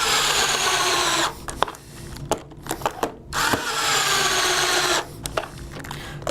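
A power drill tightens screws into a pontoon over its axles, running in two long, loud, steady whirring bursts, with short clicks and brief triggers of the drill between them.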